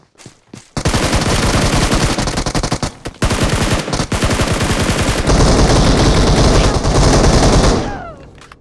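Sustained rapid automatic gunfire from a video game, loud and continuous for several seconds with brief pauses, ending in a fading tail.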